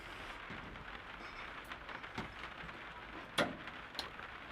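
Steady rain patters outside a camper van parked near Birmingham, a soft continuous hiss with a couple of sharper knocks or drips partway through, fairly quiet throughout.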